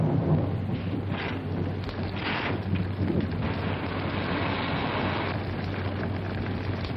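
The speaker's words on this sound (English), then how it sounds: "I think it would be foolish to go out in such a storm." A heavy thunderstorm with steady rain and a low rumble of thunder, continuous and fairly loud, with wind-like noise throughout and no voices.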